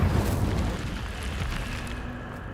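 A fire spell cast in a Harry Potter video game, a broad roaring whoosh that swells loudly at once and then rumbles on steadily, fading slightly toward the end.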